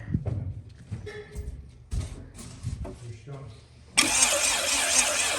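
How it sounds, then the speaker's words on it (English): A Honda Civic engine cranks on its starter and catches with a sudden loud, steady roar that begins partway through, after a stretch of people talking close by. "let's hit that starter"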